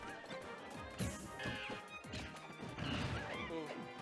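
Hits land in a Super Smash Bros match between Diddy Kong and another fighter, with several sharp crashing thwacks amid busy game effects, including one heavy smash impact near the start and more strikes later.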